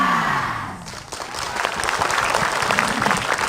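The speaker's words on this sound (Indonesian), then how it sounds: "tepuk tangannya kurang kompak" An early-morning studio audience at an Islamic religious television program breaks into applause after a brief opening sound, scattered claps swelling into a moderately loud, somewhat uneven round.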